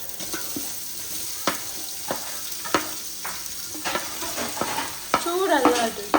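Chicken and onion frying in a pan, a continuous sizzling hiss with repeated sharp scrapes and knocks of a spatula stirring, close and clear, spattering more toward the end.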